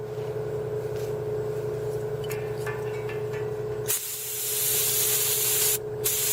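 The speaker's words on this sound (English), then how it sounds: "this thing will spray real far." A homemade heavy-duty chemical sprayer pressurised to about 40 pounds gives a steady, loud hiss throughout. The spray bursts into a brighter, more forceful rush partway through, with a short pressure change near the end.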